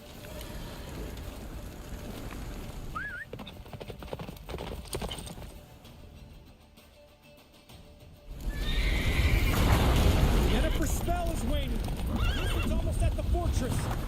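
Roach, the horse in The Witcher 3, whinnies once early on, then gallops hard with loud, rapid hoofbeats that grow heavier and closer in the second half.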